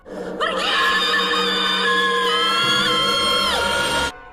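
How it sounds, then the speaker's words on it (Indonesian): A ghost lets out a long, loud, high-pitched scream in an Indonesian horror film. It is sustained and wavering for about three and a half seconds, then cuts off abruptly. "tiba-tiba hantu Darcy berteriak"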